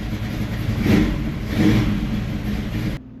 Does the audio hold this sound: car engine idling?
yes